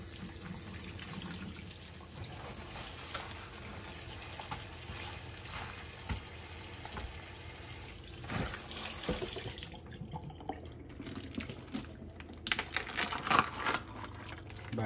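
Tap water runs steadily into a kitchen sink while a pork picnic cut is washed under it, a constant splashing hiss with irregular clunks and knocks of handling, close and moderately loud.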